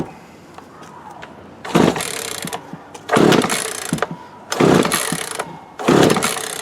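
Repeated pull-cord starting attempts on an old Craftsman 42cc chainsaw after new fuel lines, filter and spark plug; four loud rasping bursts of about a second each, separated by short pauses, close by.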